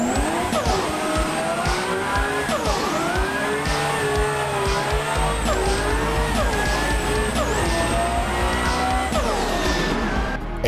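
BMW E46 drift car in the Assetto Corsa racing game, its engine revving hard and rising and falling in steady sweeps through gear changes while the tires squeal continuously through long slides.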